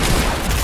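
Brief, loud burst of dense gunfire and impacts in Fortnite Chapter 2, close and continuous with no talking.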